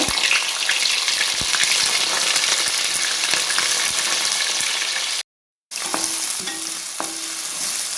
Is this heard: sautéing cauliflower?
yes